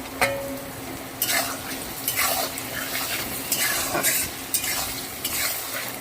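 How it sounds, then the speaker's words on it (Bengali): Onions being stirred in a hot pan with panch phoron and chilli for goat meat curry, steady sizzling frying with a spoon scraping the pan in regular strokes. "তার মধ্যে পেঁয়াজ দিয়ে ভালো করে নেড়ে দেবো।"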